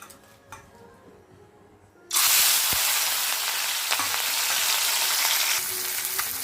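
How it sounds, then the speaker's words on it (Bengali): Small fish dropped into hot oil in a wok: quiet room tone, then a sudden loud burst of sizzling that stays strong and even, with a few faint utensil clicks. "কড়াইয়ে আমি তেল দিয়ে দিয়েছি, মাছগুলো ভেজে নেব এবার।"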